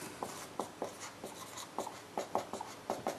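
Marker or chalk writing on a board during a maths lesson, a series of short scratchy strokes in irregular rhythm, close and moderately loud with no talking.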